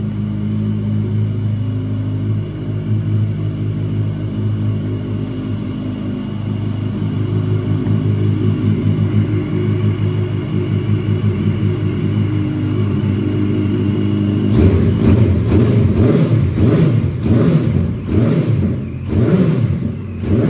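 A 2012 Yamaha FZ8 Fazer ABS motorcycle with the exhaust baffle insert removed idles with a deep steady rumble for about fourteen seconds, then barks through a rapid series of sharp, loud throttle blips.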